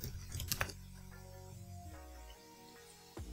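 Computer keyboard typing in a quiet room, a quick burst of clustered key clicks, then a pause and a single final keystroke, close and fairly soft.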